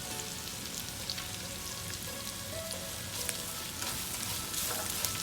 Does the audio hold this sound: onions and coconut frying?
yes